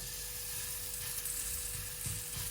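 Olive oil sizzling in a hot pan, a steady, close, even hiss running unbroken through the short stretch with no talk.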